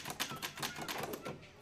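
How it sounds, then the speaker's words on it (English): Rapid, steady clacking of keys on a regular manual typewriter, with fairly even strikes, close and moderately loud, and no one talking. "Ray Charles could type 75 words a minute when he was 9 years old, on a regular typewriter."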